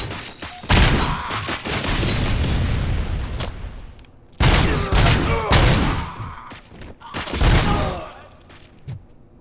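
Gunfire in the Robocop: Rogue City video game: loud bursts of rapid shots in two main volleys separated by a brief lull, with heavy impacts and a voice briefly heard among them.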